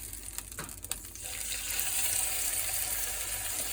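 Seasoned lamb chops dropped into hot olive oil in a pan, heard as a close, loud hiss that swells into a steady, dense sizzle after a few light knocks.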